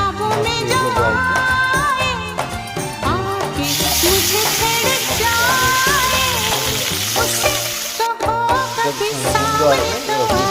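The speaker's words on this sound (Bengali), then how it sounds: "তেলটা গরম হয়ে গেছে, মাছ এগুলো দেওয়া হয়েছে" Fish frying in hot oil, a loud close sizzle that swells sharply partway through, with clinks and background clatter mixed in and a brief drop near the end.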